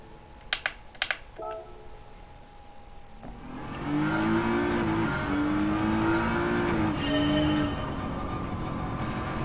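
A Nissan GT-R R35 tuned to 700PP drives in Gran Turismo 7, played on a sim wheel; a few sharp clicks come first, then the engine note rises and holds as a steady tonal drone with shifting pitch.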